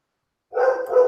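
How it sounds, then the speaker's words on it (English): A dog barks once indoors after a silent start, a single close, loud, drawn-out bark with no talk over it. "That dog."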